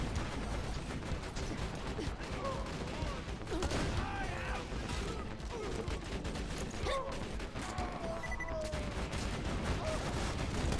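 Rapid gunfire from the Borderlands 2 video game, repeated sharp shots and bursts with mechanical clanks over a busy in-game background, fairly quiet overall, with a voice talking intermittently.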